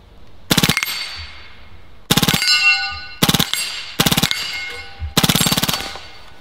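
A Hatsan Blitz full-auto .30 caliber air rifle fires five loud, close bursts of rapid shots, each lasting about half a second, separated by short silences and followed by metallic ringing from struck targets.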